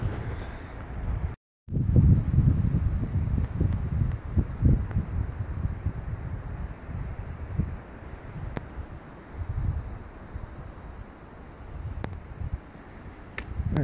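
Strong wind buffets the microphone on a hilly forest road, low rumbling gusts rising and falling in loudness, briefly cut out near the start, with faint rustling between blasts.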